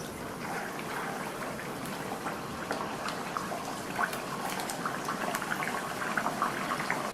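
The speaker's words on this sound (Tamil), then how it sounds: "ரெடி பண்ணி வச்ச வடையை ஒவ்வொன்றா எண்ணெயில் சேர்த்துடலாம்." Vada fritters sizzle and bubble in hot oil in a home kitchen, a steady, fairly quiet crackling fry that carries on throughout with small pops, no one speaking.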